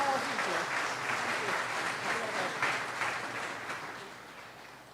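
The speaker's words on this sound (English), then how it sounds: "give them a round of applause, please" An audience claps for a group of children at a national event in Trinidad and Tobago, a steady, dense round of applause that holds for several seconds and slowly tapers toward the end, with some voices mixed in.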